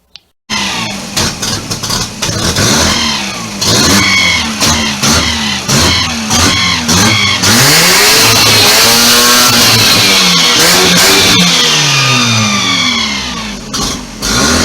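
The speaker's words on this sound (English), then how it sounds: "It won't take idle. It just won't hold it idle." A 1990 Mazda RX-7 rotary engine with a fault that stops it holding idle revs repeatedly in a close, loud series of sharp blips and surges, dropping between them and never settling into a steady idle.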